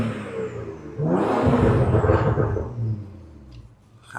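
A car with 220,000 km on it revs hard once, its engine surging loud and near for about two seconds before dropping back toward idle.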